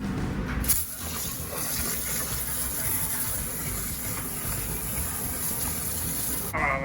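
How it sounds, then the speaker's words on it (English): Water gushes steadily into a commercial kitchen deep fryer's metal vat, a constant rushing flow that starts after a brief pause and runs without interruption. "After the dirty stuff empty, you just fill it up with water."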